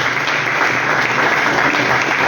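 Congregation applause in a Pentecostal church service: loud, continuous clapping from a packed room, even and unbroken from start to finish, with the noisy, roomy sound of a large gathering and no speech over it.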